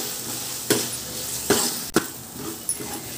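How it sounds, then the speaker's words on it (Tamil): Ginger garlic paste sautés on high flame for a Pondicherry chicken thokku biryani, a soft background sizzle punctuated by three or four sharp spatula scrapes against the pot. "இஞ்சி பூஞ்சி விழுது ஆட் பண்ணி ஹை ஃப்ளேமில் 2 minutes போல் நல்லா வதக்கிட்டு இருக்கேன்"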